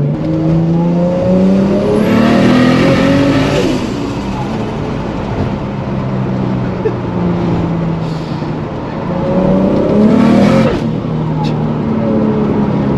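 Loud, close engine roar of the Fast and Furious Toyota Supra accelerating hard, with rising revs through a couple of gear pulls and a steady heavy drone between them, heard from inside the car.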